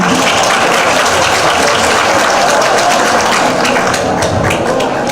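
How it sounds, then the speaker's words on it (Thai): A dense, steady wash of audience clapping fills a Thai nurses' charity ball in New York, loud and continuous from start to finish. "ขอเสียงปรบมือดังๆค่ะ"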